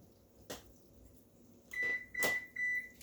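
An oven control panel beeps as start is pressed, three short electronic beeps in quick succession after a couple of soft button clicks, close and clear in a quiet kitchen.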